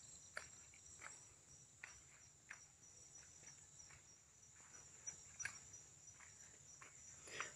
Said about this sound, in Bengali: ঝিঝি পোকার আওয়াজ, গভীর অরণ্যর মতো ভাব।